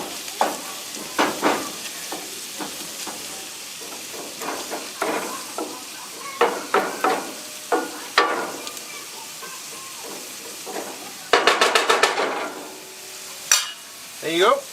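Shakshuka mixture is stirred in a pan over medium heat, sizzling with repeated scraping strokes and bursts of hiss, loud and close, with a brief voice in the background.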